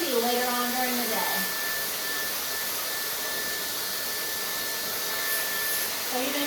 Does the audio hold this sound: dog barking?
no